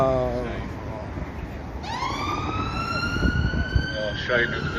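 A siren rises and wails steadily, loud and fairly close, over traffic noise, with a short burst of a second siren tone near the end.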